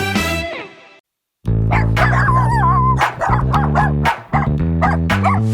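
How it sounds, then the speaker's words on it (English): Wiener dogs at a dog derby bark in a loud, close burst of repeated yips and bow-wows, with several barks overlapping in quick rhythm above a steady backing. "we've got one more wiener dog to meet for this year's Derby"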